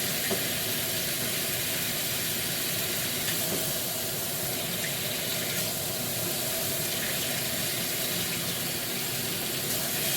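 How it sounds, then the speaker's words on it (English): Tap water runs steadily into a bowl of freshly churned butter as it is rinsed and worked, a continuous close hissing splash with no one talking. "we're going to run some water in there"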